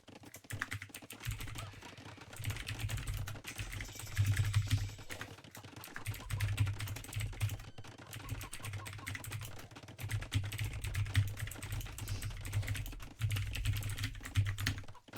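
Fingers type on a computer keyboard in quick bursts of clicky keystrokes separated by short pauses, close and clear, with no voices.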